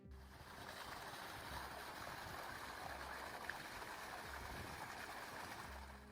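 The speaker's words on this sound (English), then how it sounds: "This is the gushing water tree in the village of Dinosa, Montenegro, a spectacular shrub that became a local landmark and viral sensation thanks to its waterfall impersonation" Water gushes steadily from the trunk of a mulberry tree in the village of Dinosa, Montenegro, a constant rushing flow that sounds like a small waterfall and stays even and unbroken throughout.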